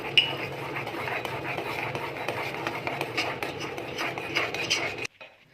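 A spoon scrapes and stirs continuously through melted sugar and jaggery as cumin powder, red chili powder and salt are mixed in for tamarind candy, a close, even rubbing clatter that stops abruptly.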